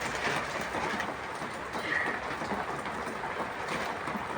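Steady rain falls outdoors, a dense even hiss with no pauses, moderately quiet and heard on its own without talk.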